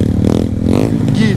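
A motorcycle ridden on a Jamaican road, its engine revving loud and close, the pitch climbing and then rising again, over heavy wind rumble.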